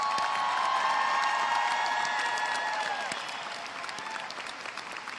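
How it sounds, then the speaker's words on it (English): A crowd at a high school graduation ceremony applauds the graduating class with steady clapping and scattered cheers and whistles, loud at first and tapering off toward the end. "Please give them a round of applause."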